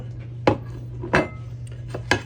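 A plate is handled in a kitchen while an angel food cake is being baked, with three sharp ceramic clinks evenly spaced over a low steady hum and no talking.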